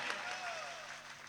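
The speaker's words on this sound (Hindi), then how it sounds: "एक बार तालियां बजा दीजिए।" Audience applause at a mushaira poetry gathering in Dhaka: a steady, dense wash of clapping from a crowd, fairly distant and continuous through the short stretch.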